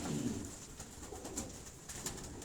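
Pigeons kept by a hobbyist coo softly and steadily close by, their low, throaty calls repeating over a constant background hum for the whole short stretch.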